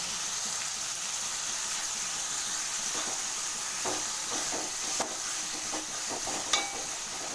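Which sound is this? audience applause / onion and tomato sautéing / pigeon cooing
onion and tomato sautéing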